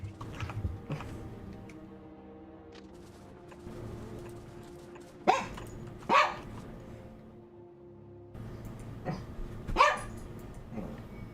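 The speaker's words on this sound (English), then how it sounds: "Oh, barking." A dog barks in short bursts, with three sharp, fairly close barks standing out over a steady low hum and a quieter background, plus softer yips early on.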